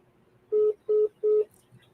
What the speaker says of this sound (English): So I'm going to add Nicole, the investigative reporter, on this call.